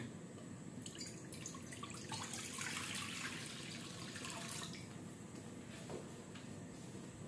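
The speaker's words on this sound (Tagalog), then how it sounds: "Maglalagay tayo ng tubig." Water runs steadily from a tap into a cooking pot, a continuous splashing stream filling it, fairly close and unbroken for several seconds.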